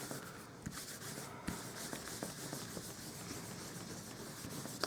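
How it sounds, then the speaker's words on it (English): Soft, close rubbing and scuffing of a tissue wiping excess ink off a rubber craft stamp, a faint continuous dry friction with a few small taps. "I'm just going to grab a tissue and just wipe off any of the excess ink"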